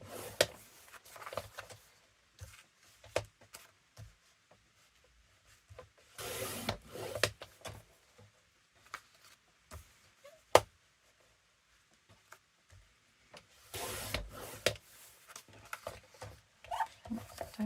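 Paper notebook pages being trimmed, giving short scraping and rubbing cuts in scattered bursts with quiet gaps between, close and fairly soft.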